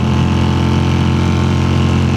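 Close and loud, the engine of a 1981 Honda CX400C motorcycle hums smoothly at a constant pace, a continuous mechanical drone with no talking.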